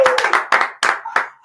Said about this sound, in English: Come on, have a round of applause, please, for Mel.